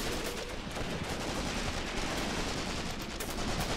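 Continuous heavy gunfire in Cross of Iron, a dense unbroken roar of overlapping shots and rattling bursts, loud and sustained from start to finish.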